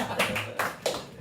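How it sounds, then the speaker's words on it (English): A comedy-show crowd gives a few short bursts of clapping, quick separate sharp claps spaced close together, moderately loud with nobody talking. "give it 2 claps and a Ric Flair"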